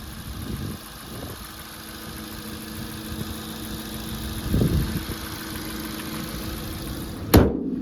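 A Volkswagen Polo engine idles with a steady low rumble and faint vibration, a few soft thumps along the way and a sharp click near the end.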